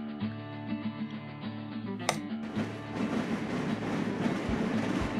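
Trains in the video game Train Crisis, a tonal electronic hum giving way to a brief sharp clink, then a louder continuous rolling, rattling rail rumble that holds steady to the end.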